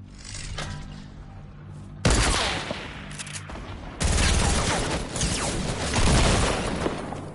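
Video game gunfire in a duos match, loud close bursts of rapid shots beginning abruptly and intensifying, with heavy booming fusillades filling the clip.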